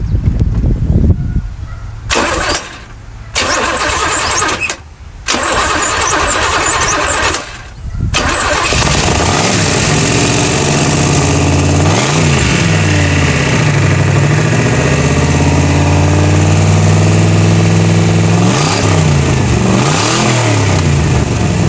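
A Chevrolet C4 Corvette engine on its first firing test cranks in several loud stuttering bursts, catches, and settles into a steady, loud run with rising revs.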